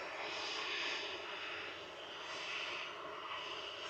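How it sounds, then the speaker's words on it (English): A Boeing 757 airliner arriving from Naples at Manchester Airport, a distant, steady engine roar that swells and eases slightly, heard alone without talk. "we have another 757 coming in from Naples"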